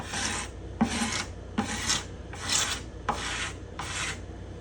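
Steel hand scraper, sharpened on both sides, slowly scraping the bindings and purflings along a spruce guitar top: six steady rasping strokes about 0.7 seconds apart, close and clear with no talk.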